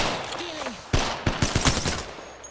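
Video game gunfire with disrupter rounds, heard as a sharp burst of rapid, loud shots in quick succession after a whooshing sweep, set against busy background game noise.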